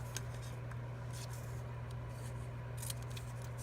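Scissors snip through fabric tape in a few faint, brief cuts over a quiet steady background hum, close by with no talking.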